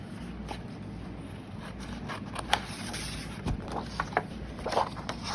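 Plain household scissors cut through paper for journal tags, a series of short crisp snips and rustles scattered over steady fan hum, close and moderately quiet.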